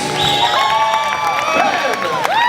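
A game-show studio audience cheers and claps for the contestants as they come out, a loud sustained wash of crowd noise with tonal whoops and shouts layered over steady applause.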